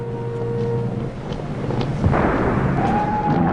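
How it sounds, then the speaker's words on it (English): A low, continuous rumble of bombs exploding during an air raid on London, roaring noise with a deep boom around the middle and a faint whistling tone rising near the end. "You can hear the bombs falling on the streets and the homes."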